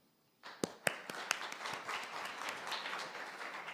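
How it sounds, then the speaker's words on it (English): A conference audience breaks into applause after a pause, with a few sharp individual claps up front before the clapping settles into a steady, even wash that carries on. "Can we give everybody another round of applause?"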